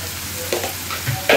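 Chopped onion fries in a pan while being stirred, a brief hissing sizzle with a few scraping stirs, the last one louder and close.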